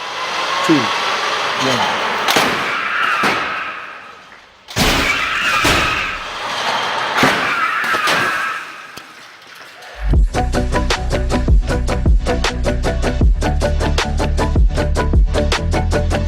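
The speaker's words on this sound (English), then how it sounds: "when this pickup truck impacts the Model Y" A pickup truck strikes a Tesla Model Y in a crash test, heard as loud broadband impacts and a sustained rushing, whooshing roar that gives way to dense, rhythmic clattering and pounding.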